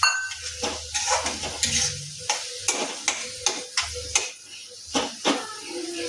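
Frozen peas tipped into a pan of frying tomato masala for aloo gobhi matar, with a steady sizzle under repeated sharp clinks and scrapes of a spoon stirring against the pot, close and fairly quiet.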